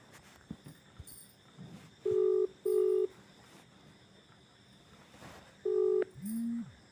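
Electronic telephone tones as a video call is cut off: two short steady beeps, a pause, another beep, then a lower rising tone. The tones are clear over faint background noise, with no talking.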